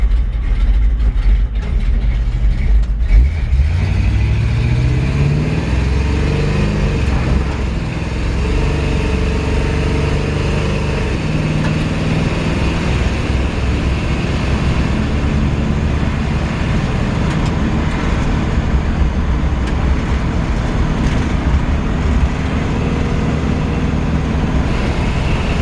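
A loud, steady V8 rumble from inside a moving 1953 Chevrolet 3100 pickup, droning continuously with a deep low tone and gear-like pitch shifts.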